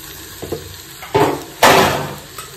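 Soybean chunks frying in a pan are stirred in three short scraping bursts, each louder than the last, over a soft sizzle with no talking.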